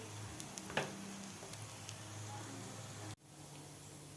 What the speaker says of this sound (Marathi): आपल्याला दोन्ही साईडकडून व्यवस्थित सहा ते सात मिनिट व्यवस्थित त्याला फ्राय करून घ्यायचं आहे